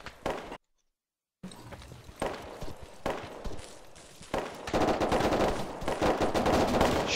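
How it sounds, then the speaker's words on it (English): Enemy gunfire in ArmA 3 cracks out in repeated automatic bursts, fairly close and getting heavier toward the end, with a short dead silence early and scattered shots and movement noise between the bursts. "Shit, that's enemy fire."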